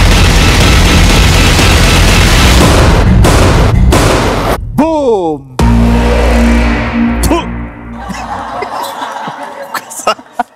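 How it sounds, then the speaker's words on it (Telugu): Bomb blast effect on a Telugu TV game show, one loud boom bursting suddenly after a dense rumbling buildup, followed by a falling tone and studio laughter and chatter. "గుండా ఫస్ట్ బాంబ్ బ్లాస్ట్ అయింది"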